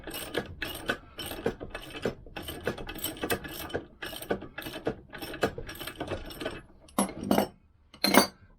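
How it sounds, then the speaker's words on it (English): A ratchet tool being loosened on a Lambretta engine during a rebuild, a rapid run of close metallic clicks in bursts, quieter pauses between, then a couple of sharper isolated clicks near the end. "I'm going to loosen off the tool and just turn it around"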